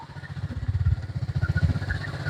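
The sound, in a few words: motorcycle riding through deep water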